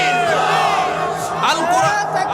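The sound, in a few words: crowd shouting in response to a takbir call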